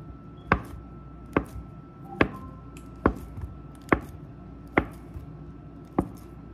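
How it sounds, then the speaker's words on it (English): Food being chopped with a knife on a cutting board while a garden vegetable rotini salad is prepared: seven sharp, evenly spaced knocks sound up close, with no talking in between. "I'll just chop it into smaller bits to make it kind of spread"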